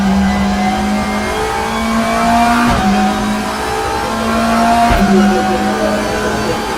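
A race car engine revving in the RaceRoom racing game, a loud, steady mid-pitched drone that holds each gear, then briefly dips and climbs again at two shift points, with no voices over it.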